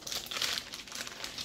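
Paper crinkles while keto chapati flatbread dough is rolled out, a close, continuous crackly rustle with small bursts throughout and no voices.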